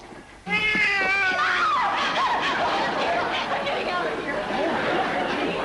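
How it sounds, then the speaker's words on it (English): A cat lets out a loud, drawn-out wavering meow that bends downward, followed by a long stretch of yowling and rustling noise. "Heaven's sakes, it was only a cat."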